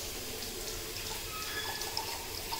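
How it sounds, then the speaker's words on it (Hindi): Half a cup of water is poured into a pea curry in a home kitchen, a soft steady trickle and splash heard faintly throughout with no talking. "हाफ कप ऑफ वाटर डालेंगे।"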